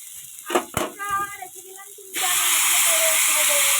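Onion and garlic are dropped into hot oil beside pushed-aside potatoes while cooking a spicy fish jhal. After a moment of talk, a loud, steady sizzle bursts up and keeps going.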